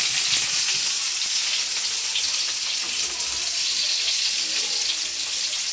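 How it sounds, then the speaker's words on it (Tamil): Raw mango pieces fry in hot oil with mustard seeds, a steady broad hiss and sizzle that stays fairly loud and even throughout, with faint stirring underneath. "இப்போ நம்ம கட் பண்ணி வச்சுருக்க மாங்காவை சேர்த்துடலாம். இந்த மாங்காவை நல்லா வதக்கிக்கலாம்."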